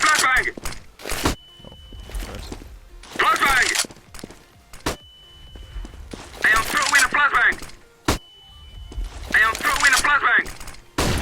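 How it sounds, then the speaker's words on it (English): A flashbang grenade thrown in CS:GO on the Inferno map, a sharp bang and bright ringing burst returning three times, with thuds of footsteps and gunfire between them. "Throwing a flashbang!"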